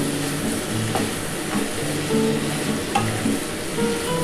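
Onions frying lightly in a pan for mutton stew, a continuous soft sizzle with occasional stirring scrapes, close and steady with no voices.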